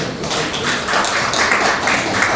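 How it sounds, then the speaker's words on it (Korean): Applause from a church assembly at a Presbyterian general meeting, a dense burst of many hands clapping close and loud, steady throughout the short moment. "박수 한번 하시죠"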